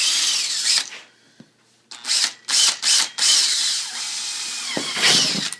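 A power drill whines in several short bursts close by, biting through a polycarbonate (Lexan) sheet with pauses between each push.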